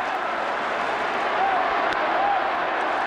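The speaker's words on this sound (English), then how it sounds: "Mainly Red Sox fans are left, and they're getting a Let's Go Red Sox cheer going here" Red Sox fans in the stands at Yankee Stadium keep up a steady crowd roar with chanting rising through it; the sound is loud, diffuse and distant, a continuous wash of cheering voices.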